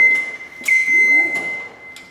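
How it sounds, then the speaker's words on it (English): A heater runs loudly in a home workshop, giving off a steady, piercing high whine throughout, broken by a few brief rattling bursts, with a faint voice briefly underneath. "Excuse the loud noise in the background, we have the heater going"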